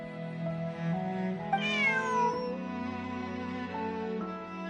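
Bonnie, a cat in Genshin Impact, gives one rising and falling meow over soft sustained background music tones.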